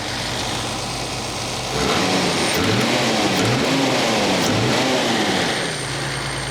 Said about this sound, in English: See, it runs so smooth that the engine barely moves when you rev it up.